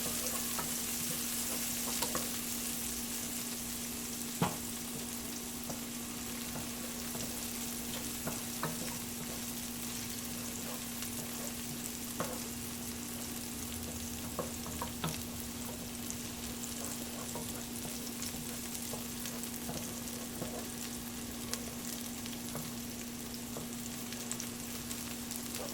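Garlic frying in oil for a sausage and lentil soup, a faint, continuous sizzle with a low steady hum beneath and scattered small pops and utensil taps throughout.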